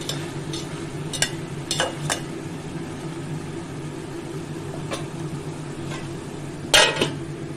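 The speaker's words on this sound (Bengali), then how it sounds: "ভালো করে কষাবো আবার কলাইটা দিয়ে" Bottle gourd curry with lentils sautéing in a pan, a soft steady sizzle under scattered scrapes and clinks of a spatula against the pan, with a louder scrape near the end; no talking.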